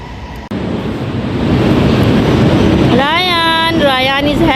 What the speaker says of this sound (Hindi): हमारी जो है वो ट्रेन आ रही है, मैं आपको दिखाती हूँ